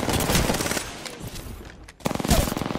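Automatic weapon fire in Apex Legends, rapid bursts of shots filling most of the stretch with a brief lull near the middle, then a loud renewed volley.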